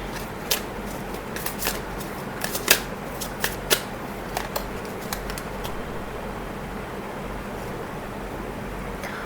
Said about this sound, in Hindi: So I'll shuffle last card for you